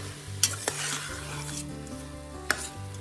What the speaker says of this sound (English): I'm adding the tomatoes that I roughly chopped.